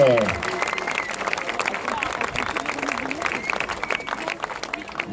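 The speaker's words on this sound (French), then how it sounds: "Et les applaudissements, s'il vous plaît, pour nos championnes de France." Outdoor crowd at a French cross-country eliminator mountain bike championship podium applauds the women champions, steady scattered clapping mixed with crowd babble and a public address voice over it.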